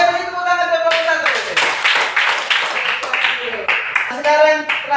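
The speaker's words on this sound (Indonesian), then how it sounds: "beri tepuk tangan buat kelompok 1." A primary school class claps for a presenting group, loud and close, mixed with children's voices and a teacher talking over it.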